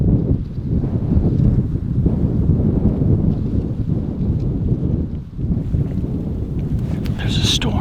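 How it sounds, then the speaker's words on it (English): Strong wind from a storm passing nearby buffets the microphone in a mountain canyon, heard as a loud, steady roar with rumbling gusts throughout and no talking. "There's a storm kind of going around us, and it's making the wind do some goofy things."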